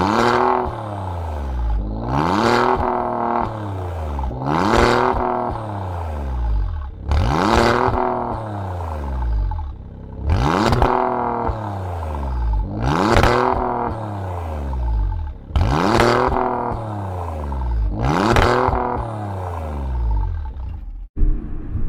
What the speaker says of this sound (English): hear that beautiful exhaust note coming from the back